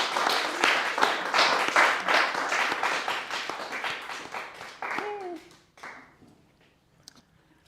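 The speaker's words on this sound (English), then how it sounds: "So can we have a big applause for Anna?" A small audience at a music-production session applauds with a burst of loud, uneven individual claps that thin out and trail off, and a voice comes in near the end.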